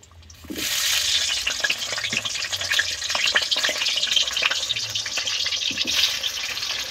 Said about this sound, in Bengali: তেলটা গরম হয়ে গেছে, এবার আলুর টুকরোগুলো তেলের মধ্যে উঠিয়ে দিচ্ছি।